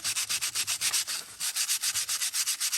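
Sandpaper rubs by hand over acetone-cleaned junk mail, about seventeen quick, even back-and-forth strokes with a brief pause near the middle, close and crisp with no voices.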